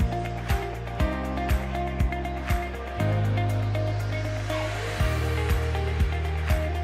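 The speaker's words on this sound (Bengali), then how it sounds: "দেখো এই দেখো ঢেউ আসছে" Sea waves at Digha break and wash along the shore in a steady, loud roar, with rhythmic surges and a gusty wind-like hiss close to the listener.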